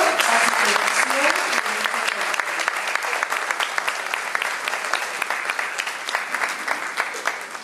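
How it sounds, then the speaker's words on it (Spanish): An event audience breaks into strong applause that starts dense and loud, then thins into more distinct individual claps as it slowly tapers off. "Despedimos con un fuerte aplauso."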